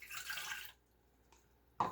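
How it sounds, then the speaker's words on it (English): Warm water is poured into a dough mixing bowl in a short, soft splashing stream, then after a pause comes a single louder drip or splash. "So I need 160 milliliters of warm water."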